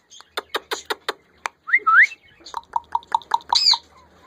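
A female Indian ringneck parrot calls close by, starting with a quick series of sharp chirps, then a rising whistled squawk, followed by rhythmic repeated calls and a final loud squawk.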